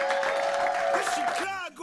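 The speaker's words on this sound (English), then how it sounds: "Everybody give Jermesha a round of applause" An audience applauds at a live Chicago storytelling event, a brief wash of clapping heard under a speaker's amplified voice.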